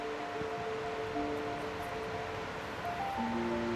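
A wild river in northern Sweden flows in autumn, a soft, continuous wash of rushing water heard at some distance, fairly faint, with a few thin tonal whistles drifting over it.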